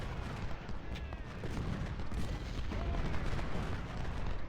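Artillery guns boom in the Ultimate General: Civil War video game, a dense rolling barrage of blasts and rumbling fire blending into continuous battle noise, heard alone.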